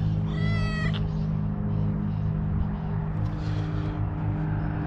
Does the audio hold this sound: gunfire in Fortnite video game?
no